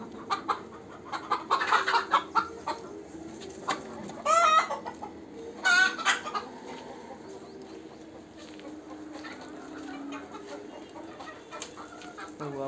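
Chickens in a poultry coop cluck repeatedly while eggs are collected in the morning, with bursts of loud nearby clucks and squawks early on, then quieter intermittent calls over a faint background.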